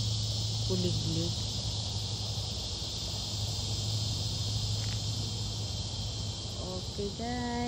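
An unbroken, shrill chorus of crickets fills a night-time yard in the Philippines near a magnolia tree. A nearby voice talks briefly at the start and again at the end.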